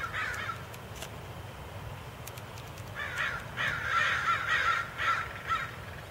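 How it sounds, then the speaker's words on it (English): Crows caw from a pine tree, a whole flock calling in overlapping bursts, with a few early calls followed by a louder, denser chorus at moderate distance over steady outdoor background noise. "A tree full of crows."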